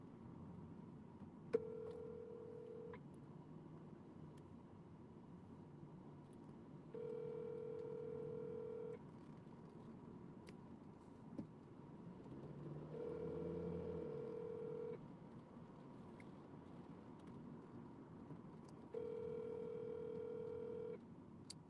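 Ringback tone of an outgoing phone call, a steady electronic purr repeating in roughly two-second bursts about every six seconds, fairly quiet with soft hiss between rings and no one speaking.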